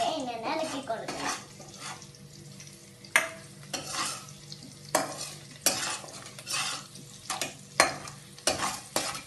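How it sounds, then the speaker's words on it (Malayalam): A leftover chapati dish stirred slowly in a sizzling pan: a low continuous frying hiss broken by repeated scraping strokes of a spoon against the metal, roughly every second, near and clear. "നമ്മൾ പതിയെ ഇങ്ങനെ ഇളക്കി കൊടുക്കണം"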